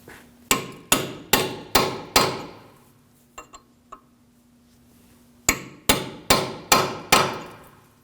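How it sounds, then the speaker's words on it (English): A hammer strikes a punch to stake the lip of an axle nut into a notch on a 2013-2015 Subaru XV Crosstrek front CV axle: five sharp metallic blows, a few light taps, then five more evenly spaced blows. "Punch the lip of the axle nut into the notch."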